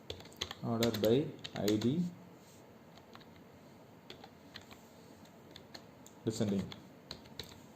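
Clicky typing on a computer keyboard while entering MySQL code for an expenses tracker app, a scattered run of light keystrokes near the mic with someone talking briefly at the start and again near the end.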